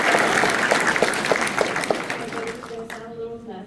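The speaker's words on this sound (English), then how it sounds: "Can we have a round of applause?" An audience claps loudly for a few seconds, the applause thinning out as a voice begins speaking near the end.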